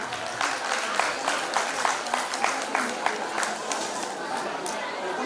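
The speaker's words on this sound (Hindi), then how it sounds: "इन सभी कलाकारों के लिए जोरदार तालियां" Audience at a school annual function claps for young performers after a prize announcement, a steady wash of applause mixed with crowd chatter, moderately loud and continuous throughout.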